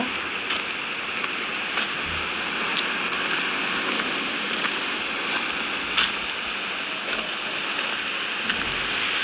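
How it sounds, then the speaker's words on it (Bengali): Dense, continuous heavy rain hiss in a video game, with occasional sharper drop ticks, steady throughout and without any voices. "বাইরে খুব বৃষ্টি হচ্ছে।"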